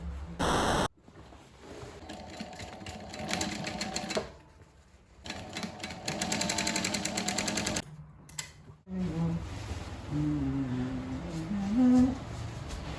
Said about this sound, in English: I'm gonna stitch here, leave this open, stitch here, stitch here, stitch here.